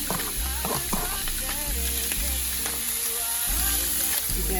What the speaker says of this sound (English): now I'm going to add the rest of my vegetables